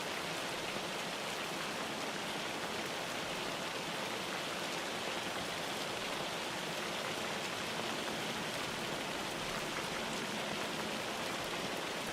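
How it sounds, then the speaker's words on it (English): Hail pelts down steadily in Farming Simulator 25, a dense, even hiss of countless small impacts. It stays constant throughout at a moderate level, with no voices. "Look at all that hail."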